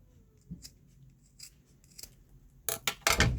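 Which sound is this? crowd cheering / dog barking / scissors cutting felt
scissors cutting felt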